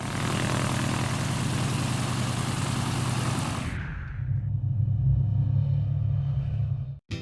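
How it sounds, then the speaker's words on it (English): Loud, steady rumble of a propeller airplane's seven-cylinder, roughly 220-horsepower radial engine close by, the roar shifting to a lower throbbing drone before cutting off abruptly. "A 7-cylinder radial kicks out about 220 horsepower and allows the plane to fly"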